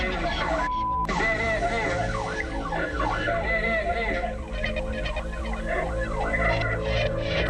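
Police car siren wailing through a police chase filmed on a dash cam around 2000, loud and continuous with sweeping rising and falling tones over steady engine and road noise, a brief tone near the start.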